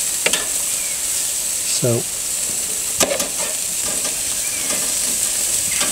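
Plaice fillets and sausages sizzle steadily on an oiled barbecue grill, a continuous loud hiss with occasional scraping and utensil clinks, while a voice speaks briefly.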